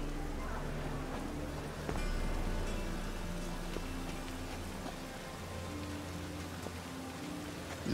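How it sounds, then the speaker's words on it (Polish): Steady rain falls in The Witcher 3 game world, a dense continuous hiss filling the scene while music and a voice sit softly underneath. "Zanosi się na deszcz."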